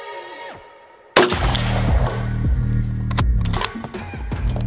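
A single sharp rifle shot cracks loudly, followed by a long rumbling echo that rolls away across open ground.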